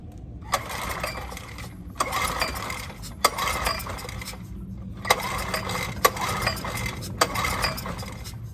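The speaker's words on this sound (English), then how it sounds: "What I'm gonna have you do is just try pulling it over and see if it starts." A Honda EX1000 portable generator with its choke on is pull-started over and over but does not catch, about seven rhythmic rope-pull bursts with sharp clicks, close and without speech.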